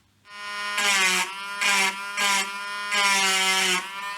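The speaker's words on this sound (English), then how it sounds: "I could probably etch something in there with my Dremel" A Dremel rotary tool etches a mark into a part of a 1940 Bland Operatic Model C barn-find radio, a close, high-pitched whine that rises into a harsher grinding buzz in several short bursts as the bit bites.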